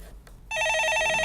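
A telephone on a call-in stock market show starts ringing abruptly after a moment of near quiet, a loud, close, repeated electronic trill with no talk over it.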